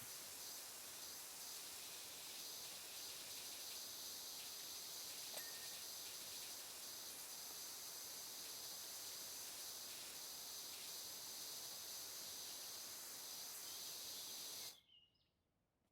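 Steady, loud hiss of a pressure washer spraying in the Power Wash Simulator game while cleaning private property, continuous and unbroken for about fifteen seconds before cutting off abruptly into near silence.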